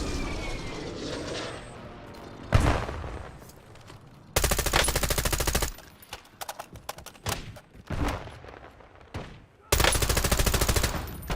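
Bursts of automatic gunfire from a shooter video game, loud and close, coming in several long sustained strings separated by brief pauses and scattered single shots.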